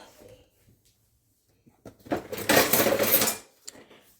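Metal kitchen utensils clatter and jangle as someone rummages through a drawer or pile searching for a ladle, a burst of clinking about a second and a half long, with faint scraping just before and a small knock after.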